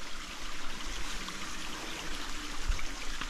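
A small waterfall in North Karnataka rushing steadily over rocks. The continuous, moderately loud cascade is heard without speech.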